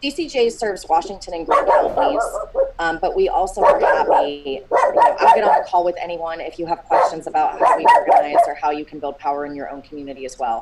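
A dog barks indoors in short bursts that stay mostly beneath a person speaking steadily on a remote call.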